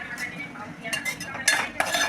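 Chopped onion and tomatoes being stirred in a cooking pan for a dry chicken dish, heard as soft scraping with a few sharp metallic clinks of a spoon against the pan, close and fairly quiet.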